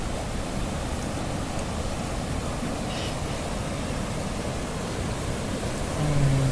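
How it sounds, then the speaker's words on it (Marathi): Strong rushing water flowing at a dam during heavy rain, a steady, loud broadband roar that continues without a break. "पाऊस जास्त असल्यामुळे प्रवाह खूप जास्त आहे पाण्याचा"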